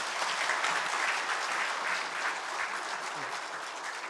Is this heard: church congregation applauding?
yes